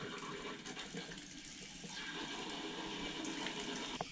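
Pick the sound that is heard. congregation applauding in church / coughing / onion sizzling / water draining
water draining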